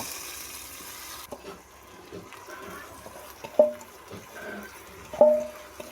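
Rice sautéing in oil in a pressure cooker for lentil khichuri gives a low, steady sizzle, broken by two sharp metallic clinks from a spoon against the pot.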